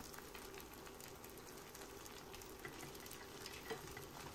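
Vegan white radish cakes sizzle and crackle steadily in a hot pan, a soft continuous frying hiss with no voices.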